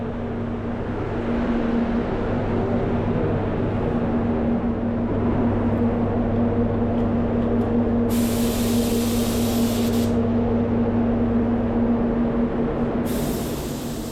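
A spray gun lays a second coat of paint on a brand new Porsche Cayenne Hybrid at about 1.9 bar. It gives a loud, steady, close hiss of air and atomized paint that runs unbroken throughout.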